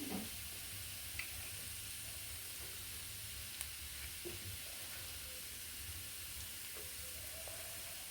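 Vegetables and rice frying in ghee with spring onion, a steady low sizzle and hiss throughout with a few faint clinks, fairly quiet and close, no talking.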